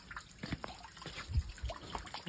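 Running water trickling and splashing at a farm, faint and irregular with small drips and gurgles over a couple of seconds, no talking.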